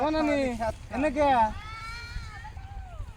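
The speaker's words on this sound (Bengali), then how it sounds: "ছাগল কাঁদে দা" A goat gives two loud, wavering bleats close by, then quieter bleats trail off over faint background noise.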